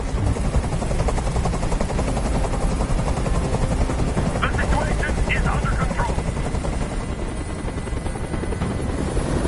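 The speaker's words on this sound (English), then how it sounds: "Tell that helicopter to get out of here." Steady thrumming helicopter rotor hovering close by in the video game Detroit: Become Human, loud and continuous, with a voice speaking briefly over it.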